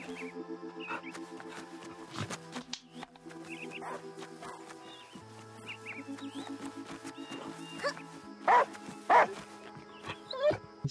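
A puppy barks in the video game The Last Day of June: a few short yips at a moderate distance over layered game music, most noticeable near the end, with no talking.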